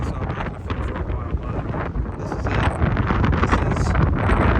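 Strong wind buffets the microphone at Cooper's Beach in the Hamptons, a loud continuous gusty roar that grows stronger toward the end.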